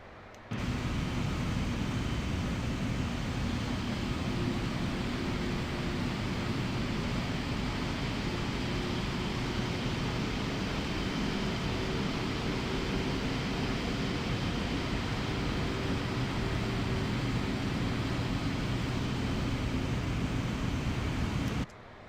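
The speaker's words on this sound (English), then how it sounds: "Can hear those engines winding up and winding down" Steady broadband roar of Boeing 777-300 jet engines in Microsoft Flight Simulator as the airliner slows, with a low drone that subtly rises and falls throughout.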